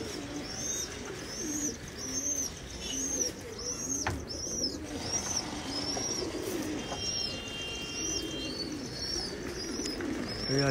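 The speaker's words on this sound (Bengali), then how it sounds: "এই আজকে 14টা পায়রা ছাড়া হয়েছে।" Pigeons coo repeatedly nearby after a flock of fourteen is released, with soft chirps and an occasional wing flutter over a constant low outdoor background.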